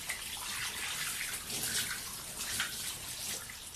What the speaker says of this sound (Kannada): ಬಾತ್ರೂಮಲ್ಲಿ ಇಷ್ಟೊಂದು ನೀರು ವೇಸ್ಟ್ ಮಾಡಿದ್ರೆ ಸರಿ ಹೋಯ್ತು ಕತೆ